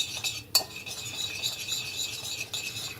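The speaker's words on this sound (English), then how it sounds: "We're gonna give this another whisk" A whisk stirring a salmon marinade of salt and crushed black pepper in a bowl, close and soft, with a continuous rhythmic scraping and a sharp clink of metal on the bowl near the start.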